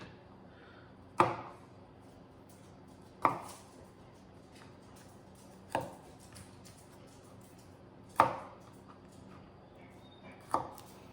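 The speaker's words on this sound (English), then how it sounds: "6 cloves of garlic, and I'm just trimming off the end" A knife chops down on a board while trimming the ends off garlic cloves, five sharp, well-spaced cuts, close and clear against a quiet kitchen background.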